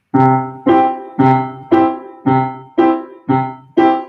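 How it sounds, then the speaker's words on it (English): Piano-like keyboard plays an even boom-chuck accompaniment, alternating a low bass note with a fuller chord in eight crisp, evenly spaced strikes, each ringing and decaying before the next. "So a boom check pattern is just a bass note on beats 1 and 3 with a chord on beats 3 and 4"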